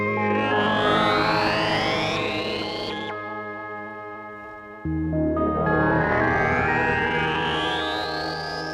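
A sustained Moog Memorymoog synthesizer chord with rising, swept tones drenched in reverb, fading into a lingering tail before a new swelling chord takes over.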